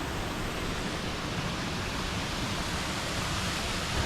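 Steady roaring rush of a polluted waterfall in Bali, loud and continuous broadband water noise with no break.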